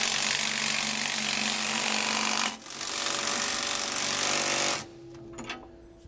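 Suspension bolts on a 2017 Fleetwood motorhome are tightened with a 19mm socket and wrench during a steering stabilizer install, giving a loud, sustained grinding rasp that breaks briefly, resumes, then cuts off into faint clicks.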